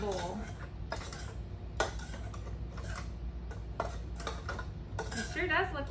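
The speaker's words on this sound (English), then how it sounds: "I'm going to take a big spoon to make sure that's all mixed up underneath there." A big spoon scrapes and clinks around a bowl while stirring cupcake batter, with irregular soft knocks and scraping strokes, fairly quiet and close.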